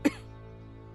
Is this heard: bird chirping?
no